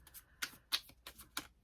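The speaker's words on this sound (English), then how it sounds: "sometimes I just shuffle to channel" A deck of tarot cards being shuffled close by, giving quick papery riffles and flicks in several short bursts with brief gaps between them, heard alone with no voice.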